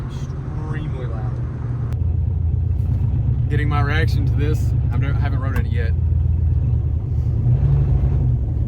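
A turbocharged police car's engine rumbles low and steady throughout, loud and close, while people talk over it; no sharp revving peaks stand out.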